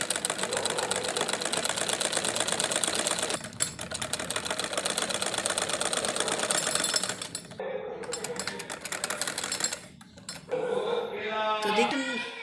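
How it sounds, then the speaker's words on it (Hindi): Sewing machine running fast, stitching a folded fabric strip into loops for a kurti neck design, a loud steady whirring clatter that pauses briefly, then resumes in short bursts near the end. "यहाँ पर हम सिलाई लगाएंगे"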